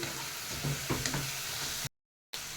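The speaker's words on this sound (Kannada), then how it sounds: "ಟೊಮ್ಯಾಟೊ ಮತ್ತು ಈರುಳ್ಳಿಯನ್ನು ಫ್ರೈ ಮಾಡೋದ್ರಿಂದ ಅದು ಬೇಗ ಫ್ರೈ ಆಗುತ್ತೆ" Tomatoes and onions fry in a pan for an egg masala, giving a steady close sizzle with a few soft stirring knocks, then a brief gap of silence before the sizzle returns.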